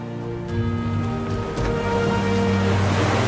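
Rough Atlantic surf at Woodford Beach, Dominica, a steady loud wash of breaking waves with wind noise on the microphone and a low steady hum, continuous and close.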